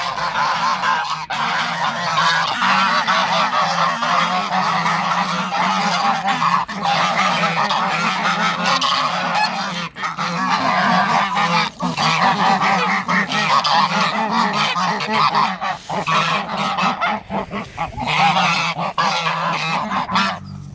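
Farm geese coming in to be fed, a loud nonstop chorus of overlapping honks from a close flock that fills the whole stretch without voices.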